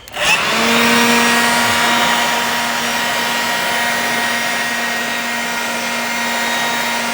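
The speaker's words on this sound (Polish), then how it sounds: "używam takiej dmuchawy do liści." A loud, steady leaf blower drying a Triumph Speed Triple 1050 motorcycle roars close by with a constant droning whine, running without pause.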